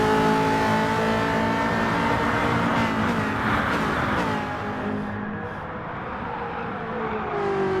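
A Ferrari F40 '92 in a racing video game screams at high revs along Monza's back straight (no chicane) toward Parabolica. Its loud, steady engine note sags and drops in pitch partway through, then holds lower, with no voices.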